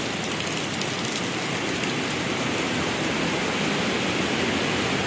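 Rain falling near Wawa Dam after a downpour, a dense, steady hiss of water that stays loud and even throughout, with no voices.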